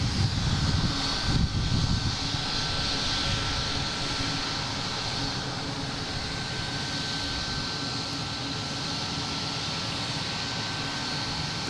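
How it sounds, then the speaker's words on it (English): A jet airplane roars steadily at Boston Logan International Airport, a broad sustained engine rumble close by that fills the whole stretch without pause, with a slight swell near the start. "The jet you hear is not coming from the Cessna"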